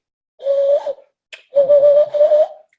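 Hand whistle made by blowing through cupped hands, two clear hooting tones, one short and one longer and wavering, close and loud with silence between.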